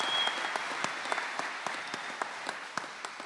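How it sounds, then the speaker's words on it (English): An audience applauds the campus maintenance team at a college commencement ceremony, a steady wash of many hands clapping with sharper individual claps standing out throughout. "can we give them a huge round of applause?"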